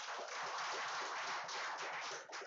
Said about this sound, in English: Can we please give her a big round of applause?